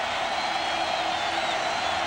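Stadium crowd at a 2003 college football game between NC State and Florida State, a dense, steady roar of cheering voices filling the whole stretch without pause.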